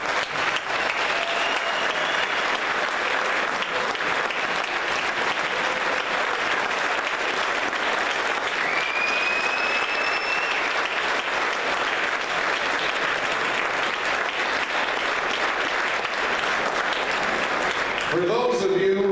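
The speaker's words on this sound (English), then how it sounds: "why don't we give this group, this 2016 class, one more big round of applause." A large audience applauds a 2016 class of inductees at a small-town athletic hall of fame banquet in Canby, Minnesota: sustained, dense clapping that carries evenly for nearly twenty seconds before trailing off at the end.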